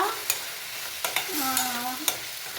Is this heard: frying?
yes